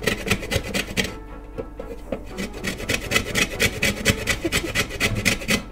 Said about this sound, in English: I'm gonna grate the rind off this lemon